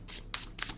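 Tarot cards shuffled and drawn by hand, three short papery riffling bursts close by with brief pauses between, no voices.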